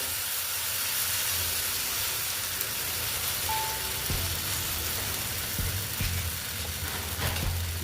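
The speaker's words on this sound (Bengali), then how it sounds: "এই যে ব্যাটারটার থেকে আমি এক হাতার মতো নিয়ে এখানে দিয়ে দিচ্ছি" Semolina and gram flour batter sizzles steadily in a hot pan after a ladleful is poured in, a continuous close frying hiss with a few soft knocks of utensils and no voices.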